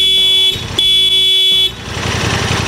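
A motorcycle horn fitted with a Denali D7/D3 auxiliary light setup sounds a steady, loud tone for about a second, pauses briefly and sounds again, with engine noise rumbling underneath.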